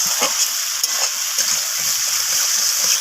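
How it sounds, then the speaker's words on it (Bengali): Fried potatoes and spices sizzle steadily in a pan as they are stirred, with soft scraping and bubbling throughout and no voice over it. "তো আলুগুলো দিয়ে কষাতে থাকবো।"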